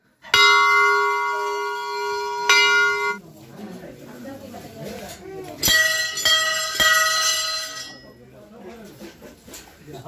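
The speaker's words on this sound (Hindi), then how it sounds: "मैं घंटी बजाने का ट्राई कर रहा हूँ" A temple bell at the Maa Purnagiri hilltop shrine in Uttarakhand rings loud and near with sustained metallic tones, struck twice at the start and again a few seconds later, with pilgrims' voices and bustle underneath.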